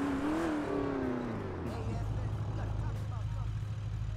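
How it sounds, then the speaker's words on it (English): Chevrolet Camaro in GTA 5, its engine note rising and falling through a revving sweep before settling into a steady low drone, loud and up close, with a voice speaking over the start. "this Camaro is loud, so shout out to all my iPhone users"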